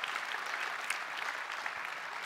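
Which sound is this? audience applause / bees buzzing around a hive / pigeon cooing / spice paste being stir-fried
audience applause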